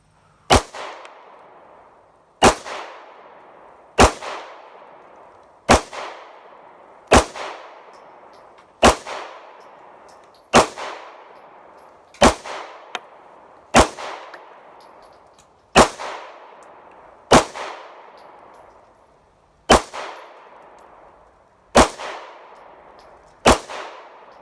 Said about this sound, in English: Smith and Wesson SD9VE. And again, I'm shooting from about 5 yards.